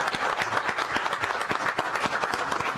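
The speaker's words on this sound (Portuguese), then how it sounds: "Salva de palmas para ele." Audience at an investment forum in Paraguay claps continuously for a speaker, a dense, even wash of applause from a crowd filling the whole moment.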